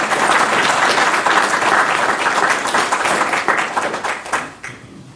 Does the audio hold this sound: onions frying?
no